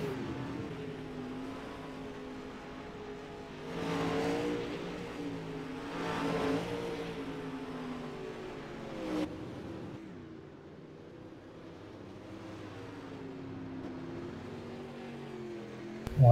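Pro Late Model race cars run hot laps on a dirt track, several engines droning and revving in the distance as they pass and swell in volume, with steady engine tones throughout.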